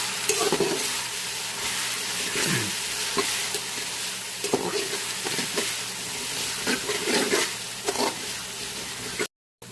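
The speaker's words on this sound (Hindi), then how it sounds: "अदरक लहसुन को हमने 1 से 2 मिनट तक फ्राई कर लिया" Ginger garlic paste fries in a pan for chicken biryani, a continuous close sizzle broken by repeated scraping stir strokes of a utensil, with no voices.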